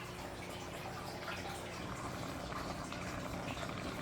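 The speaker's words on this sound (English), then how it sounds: "let the seasoning cook and the mixed veggie and everything cook together for a little while" Seasoned rice with mixed vegetables simmers in a pot with a steady, faint bubbling hiss that carries on evenly throughout.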